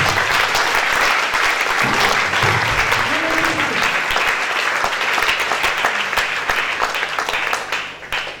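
A church congregation applauds loudly and steadily after a testimony, dense clapping filling the whole stretch with a few scattered cheers rising above it before it tapers off at the end.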